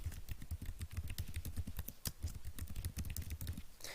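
Fast, irregular clicking of keys on a computer keyboard as a password is entered, steady and close with no talking.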